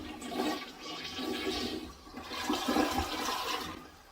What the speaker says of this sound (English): let's go ahead and flush it